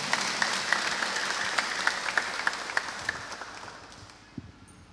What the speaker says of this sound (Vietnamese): xin cộng đoàn cùng với hai đức cha để một tràng pháo tay để chia vui với các cha